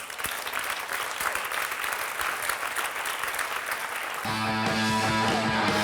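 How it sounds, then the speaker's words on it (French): A live comedy audience claps steadily for several seconds, a dense crowd applause that gives way near the end to a burst of music. "Applaudissements."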